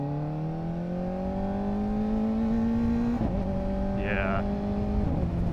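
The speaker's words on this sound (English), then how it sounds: "The upshifts have a nice pop to them that this bike's never had before on the other exhausts" Kawasaki ZX-4RR motorcycle with a Yoshimura AT-2 exhaust, engine pitch climbing steadily then dropping sharply around each upshift with a quick pop, loud and continuous, with a brief voice speaking over it.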